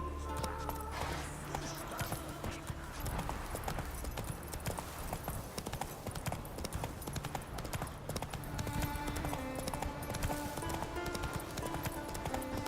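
Horse hooves clip-clopping at a quick, steady gait across the Skellige isles in The Witcher video game, a rhythmic close drumming over game music and ambience, with an occasional whinny.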